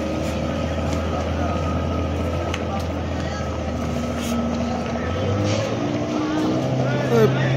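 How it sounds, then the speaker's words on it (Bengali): A speedboat's engine drones steadily at a river ghat in Barishal, then shifts and rises in pitch as the boat pulls away toward Bhola. A voice speaks over the motor throughout. "এই একটা স্পিড বোট এখনই ছেড়ে যাচ্ছে, দেখাই আপনাদের।"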